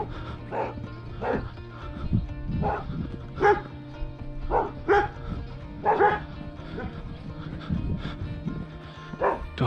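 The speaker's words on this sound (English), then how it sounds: "Dogs barking." Several dogs bark repeatedly near a barn and slate cottage in the Shropshire countryside, with sharp, fairly close woofs and yips recurring steadily throughout.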